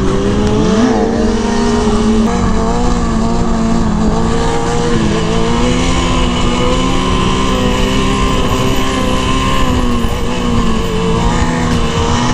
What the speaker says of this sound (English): This exhaust is so quiet though